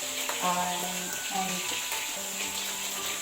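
Filipino shrimp paste (alamang) fries in a pan with a constant sizzling hiss, faint under a soft voice with a few light stirring clicks.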